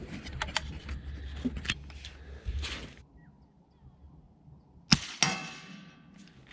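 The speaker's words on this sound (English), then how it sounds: "The mag goes in and then straight in like that." A rifle magazine is pushed into the gun outdoors on a farm, giving a few light metallic clicks and then one sharp, loud clack near the end.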